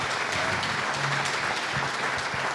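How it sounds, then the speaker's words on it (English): An audience gives a round of applause, dense sustained clapping from a crowd that fills the whole moment at a steady level with no talk. "Right, round of applause."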